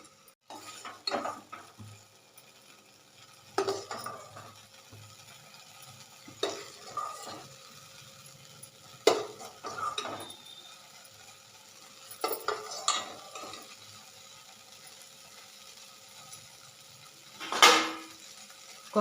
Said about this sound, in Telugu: ఇప్పుడు ఇవి తీసేసి గోంగూర మగ్గిస్తాను.